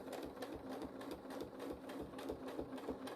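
Sewing machine running steadily through free-motion couching, its needle stitching a yarn-like cord onto fabric in a rapid, even chatter with no pauses, close and moderately loud.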